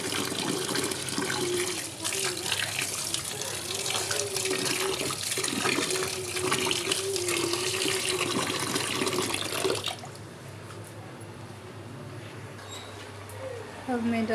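Rice being rinsed under a running kitchen tap while cooking dal, a steady broadband rush of water for about ten seconds that then drops to a quieter trickle, with someone speaking over it.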